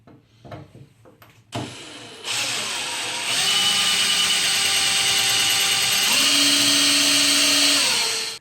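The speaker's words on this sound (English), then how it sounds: "have some really good carbide bits and start making the perforations." A power drill with a carbide bit whines up to speed after a few sharp knocks, then runs loud and steady, its pitch shifting as it bites while drilling perforations.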